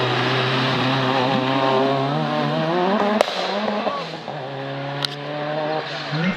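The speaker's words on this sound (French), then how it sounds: "Donc lui dans sa R11 il a un moteur de Clio 16V turbo." A Renault R11 fitted with a Clio 16V turbo engine and a front-exiting exhaust climbs a historic hillclimb course, its engine loud and close, revving up through gears with sharp shift cuts and pops.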